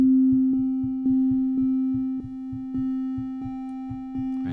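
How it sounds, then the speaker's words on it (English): A steady synthesized triangle-wave tone, played via MIDI in Reaper, holds throughout, soft and slightly hollow with a faint buzzy edge, while quiet regular clicks pulse underneath. "let's bring in a triangle wave"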